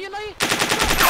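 A CZ61 Skorpion submachine gun fires in the video game DayZ, a rapid, loud burst of automatic shots following a brief tonal sound.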